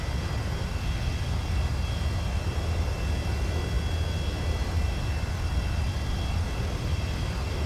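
Airliner landing in a flight simulator game, a steady loud engine roar with a broadband rushing hum that stays even throughout, no voices.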